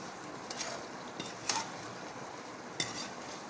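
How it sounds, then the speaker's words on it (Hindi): Chicken with tomato and onion masala being fried for chicken biryani, a soft steady sizzle at moderate distance broken by a few sharp clinks of a stirring spoon against the pan. "अब हम इसको भूनते जाएंगे ताकि जो टमाटर हमारे थे वो अच्छा सा एक मसाला इसका और प्याज का बन जाए।"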